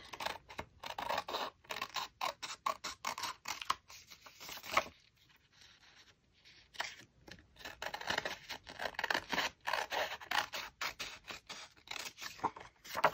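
Scissors snip steadily around a paper florist tag, a dense run of close, crisp cuts and rustles with a brief pause midway before the trimming resumes.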